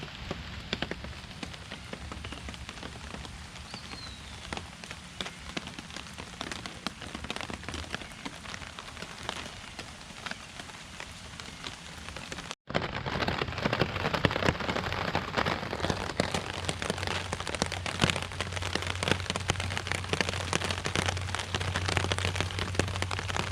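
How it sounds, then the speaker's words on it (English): Heavy rainstorm pours onto a hammock shelter, a dense steady patter that drops out for an instant midway and then returns louder and fuller, with no talking. "Rain's coming to an end. There were some periods of some pretty heavy downpour."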